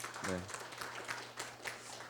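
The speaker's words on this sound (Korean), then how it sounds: "박수 한번 부탁드리겠습니다" Audience applause at a deep-tech innovation growth forum's talk concert, a steady patter of clapping filling the room for about two seconds, with a short voiced sound near the start.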